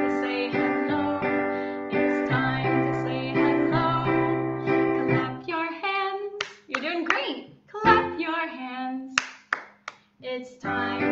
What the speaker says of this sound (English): Clap your hands, clap your hands, clap with me.